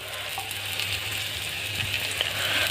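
Vegetables for a chowmein omelette, including shredded cabbage, spring onion and tomato, sizzle steadily in a hot pan, a continuous close hiss and crackle with a low hum underneath.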